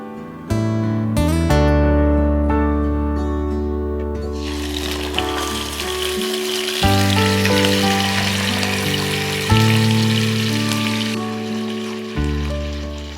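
Marinated chicken dropped into hot oil sets off a broad, steady sizzle that swells midway and carries on to the end, partly buried under loud background music.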